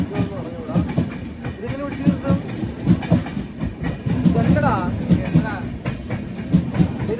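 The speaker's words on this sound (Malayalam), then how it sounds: "ഇതാണ് നമ്മൾ പോകുന്ന ട്രെയിൻ നല്ല സ്പീഡാണ് പോകുന്നത്" A train rumbling along at speed with a steady clatter of wheels, while people talk over the noise throughout.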